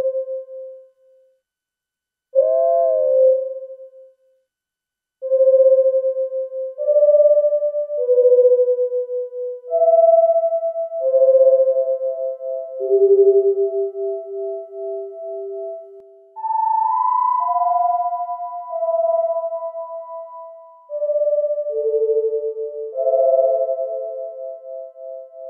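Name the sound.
two synthesizer tones beating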